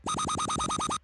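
A dry Native Instruments Massive synthesizer patch plays nine quick, evenly spaced notes, each with a short pitch swoop, in a rapid, bright pulse with no reverb or effects.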